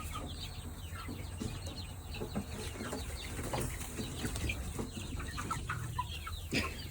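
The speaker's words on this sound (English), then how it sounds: "There's 8 different breeds of chickens in this coop." Chickens of eight different breeds cluck and squabble inside a large coop with a long roost, a dense continuous flock chatter with overlapping calls and occasional louder squawks over a low steady hum.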